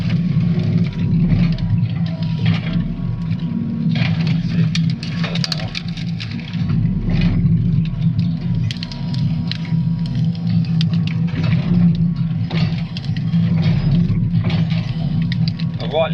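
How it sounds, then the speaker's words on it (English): Excavator diesel engine idling at low speed, a steady low rumbling drone with intermittent mechanical clanks and rattles throughout. "Rightly or wrongly, I always have my engine speed quite low."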